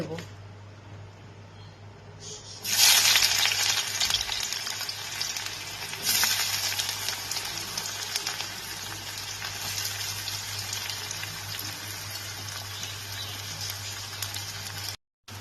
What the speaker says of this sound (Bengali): কড়াইয়ের তেলটা আমার গরম হয়ে গেছে আমি এবার এর মধ্যে পেঁয়াজ কুচিগুলোকে দিয়ে